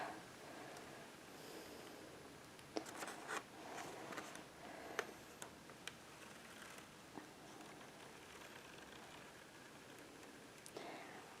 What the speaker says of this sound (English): So we're going to go ahead and peel this up.